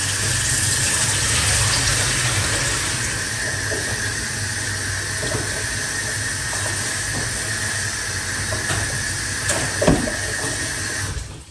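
Ginger rinsed under a running kitchen tap, a steady hissing gush of water that carries on evenly throughout, with a brief splash or knock near the end and no talk.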